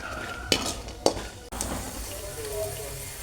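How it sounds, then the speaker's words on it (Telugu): Peanuts frying in a pan, a low hiss broken by two sharp utensil scrapes or clinks near the start, then a softer continuous sizzle. "ఇవి పల్లీలు, ఇవి కూడా కొంచెం ఫ్రై చేసుకోవాలి."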